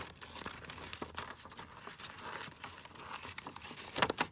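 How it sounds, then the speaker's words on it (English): Paper being torn by hand while making a beginner's junk journal, a continuous ripping and crinkling that runs close and steady for several seconds with a sharper rip near the end. "So we're just going to tear down there."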